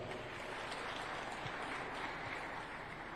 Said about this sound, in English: Another round of applause for our Honorable Professor.